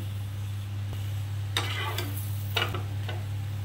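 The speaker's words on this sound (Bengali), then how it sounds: "দুদিক এইভাবে লাল করে বেশ মচমচে করে কড়কড়ে করে ভেজে নিতে হবে।" Paratha fries crisp in a pan with a soft, steady sizzle over a constant low hum, and a few brief louder crackling bursts.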